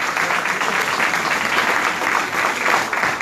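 A crowd at a campaign launch in Villa Gesell gives sustained, loud applause as a candidate is introduced, the clapping steady and full throughout.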